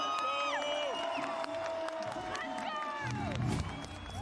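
A crowd roars and cheers at a Valorant esports playoff match between FPX and XSET, a steady wash of voices under a caster's excited commentary, swelling briefly near the end.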